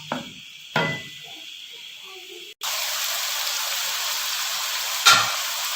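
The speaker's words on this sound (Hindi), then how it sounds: "अब ऑयल में हम डालेंगे प्याज को।" Onions dropped into hot oil in a home kitchen pan, cooking for a fish curry, break into a loud, steady broad sizzle after a few soft clatters, with a brief sharper hiss burst near the end.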